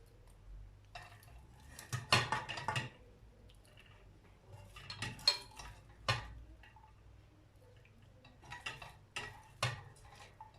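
Cooked pasta being tipped into a pan holding a tomato and cheese mixture, giving a few scattered clinks, scrapes and soft wet stirring knocks in bursts, close and fairly quiet with no talking.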